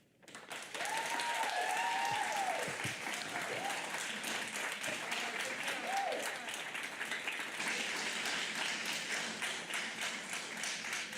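Sustained applause from a public audience at a school board meeting, dense and steady for about eleven seconds, with a few voices calling out faintly underneath.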